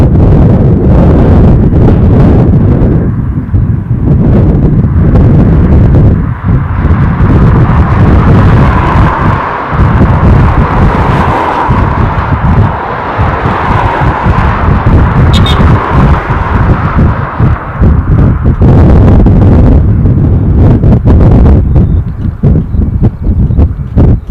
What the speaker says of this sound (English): I think this wind has got to be running ahead of the forecast.